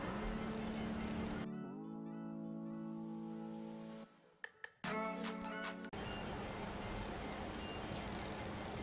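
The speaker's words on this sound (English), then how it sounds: "They're playing GTA, so I'm guessing that's what's playing on the radio on their car" Music from a car radio in the Grand Theft Auto video game plays in another room, a muffled, steady tonal backdrop with sustained harmonic notes and a brief drop midway.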